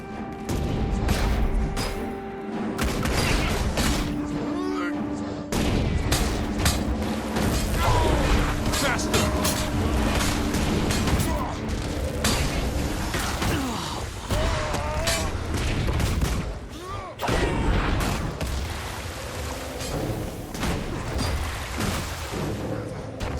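Mortar fire and battle noise from the game Guild Wars 2, a dense continuous wash of booms, mechanical clatter and combat effects running throughout, with a voice talking over the mix.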